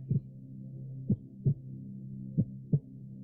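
Slow, steady heartbeat pulses thump at close range, spaced irregularly about every second over a low droning hum, with no talking.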